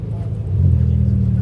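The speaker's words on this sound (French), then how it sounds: "je vous ai dit la Roma. Elle arrive. Quel bruit." Ferrari Roma arriving at an outdoor classic-car concours, a deep, throaty engine rumble swelling as the car nears, loud and close, with a voice talking over it.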